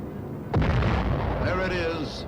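A radio-guided aerial bomb strikes its target in archival war footage, a sudden loud blast followed by a long rumbling roar, with narration over it.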